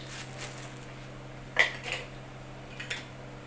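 Light clinks of a metal spoon against a pot as salt is added to rice for stuffed mombar sausage, a couple of soft taps alone in a quiet kitchen.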